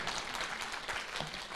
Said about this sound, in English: You give him a big round of applause as he comes forward to welcome us